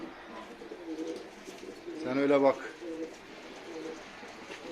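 Soft, low cooing from a laying female pigeon rises briefly in the middle, surrounded by quiet indoor murmur and a short spoken remark.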